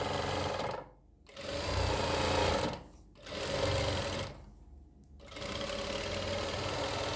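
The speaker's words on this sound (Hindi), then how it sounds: "हम इसको ऐसे करके ना यहाँ पे सिलाई लगाएंगे" Sewing machine stitching a shirt collar, running loud and close in three long bursts separated by short pauses.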